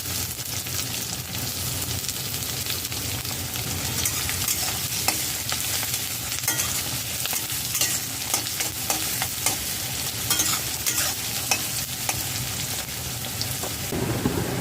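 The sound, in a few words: chopped onion frying with garlic and ginger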